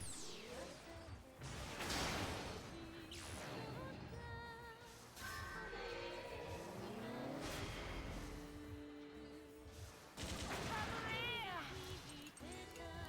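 A link attack in the game Fuga: Melodies of Steel fires a barrage of booming shots, whooshes and metallic crashes in dense, overlapping bursts, with a voice talking throughout and music underneath.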